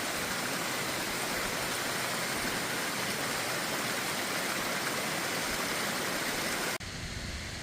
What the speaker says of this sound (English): Bridal Veil is a double waterfall.